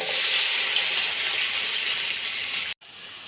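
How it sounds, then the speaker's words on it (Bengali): Marinated fish and onion dropped into hot oil in a wok set up a loud, dense, steady sizzle that cuts off abruptly near the end, then resumes more softly. "কড়াইতে তেল দিয়ে দিলাম, তেল গরম হলো, দিয়ে দিচ্ছি মেখে রাখা মাছ"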